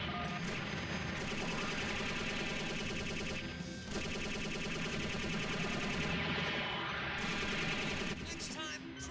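Rapid automatic gunfire from the video game Robotech: Battlecry, dense continuous bursts that fill nearly the whole stretch with only a brief dip in the middle, loud and close with game sound around it.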